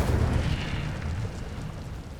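An Incendio fire spell cast in Hogwarts Legacy bursts as a loud, rumbling whoosh of flame with a deep low-end roar that stays steady and then slowly eases off.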